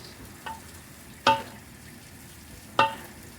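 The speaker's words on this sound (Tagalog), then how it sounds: "Paghaluin natin yung luya, bawang, saka sibuyas." Ginger, garlic and onion sautéing in a pan, a low background sizzle broken by three sharp scraping clacks from a spoon against the pan.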